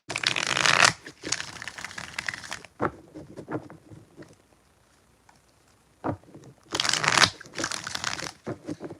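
Tarot cards are shuffled close up in quick crisp riffles and rustling bursts, with a quiet pause in the middle and a second vigorous shuffle toward the end.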